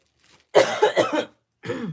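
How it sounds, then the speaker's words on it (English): Two harsh coughs close to the mic, the first a quick burst of several hacks, then a brief pause before a second single cough. "I'm sorry about this cough."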